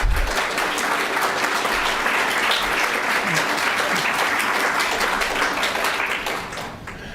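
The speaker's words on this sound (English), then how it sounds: "One more round of applause for our inductees into the Honorary 100." Sustained audience applause for inductees into the Honorary 100 at an Earth Day climate action event, a dense steady wash of many hands filling the room, tapering slightly at the end.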